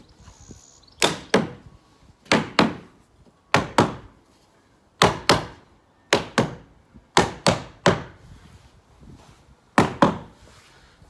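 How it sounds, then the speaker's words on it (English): A cedar board is knocked flush into place on a garden studio build in Oxfordshire, with about a dozen sharp wooden knocks, often in quick pairs, separated by short pauses. "We just knocked it all the way in"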